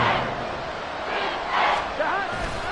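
Football stadium crowd roaring during an NFL game with Burrow at quarterback, a broad sustained wash of many voices that swells in waves and stays loud throughout.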